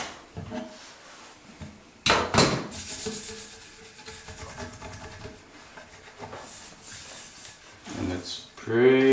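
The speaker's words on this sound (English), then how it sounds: "Take the clamps off." Clamps are removed from a wooden cabinet after installing pulls, with scraping, rubbing and clunking handling noises in irregular bursts, some louder knocks, and a person speaking intermittently.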